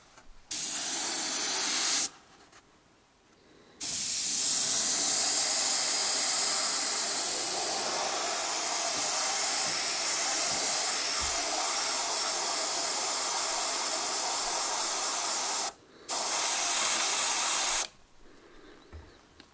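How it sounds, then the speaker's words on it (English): An airbrush set to roughly 30 PSI sprays paint for model track, giving a loud steady hiss in long bursts that break off briefly near the start and again near the end. "I've got my airbrush set at about 30 PSI"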